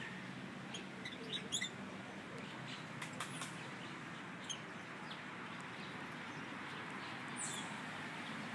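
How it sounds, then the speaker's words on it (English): Lovebird at a zoo gives a few faint, high, brief chirps over a steady outdoor background hum, sparse and somewhat distant, with no talking. "Lovebird."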